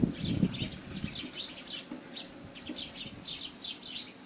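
Small sparrows chirp in quick bright bursts while feeding on spilled millet in a village yard, with a soft flutter of wings at the start and continuous twittering close by.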